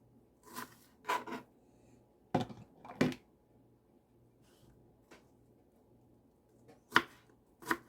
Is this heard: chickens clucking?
no